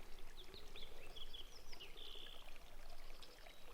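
Spring water flowing at a mountain spring in the San Gorgonio Wilderness, a faint steady trickle and pour under outdoor ambience, with soft bird calls chirping in the background.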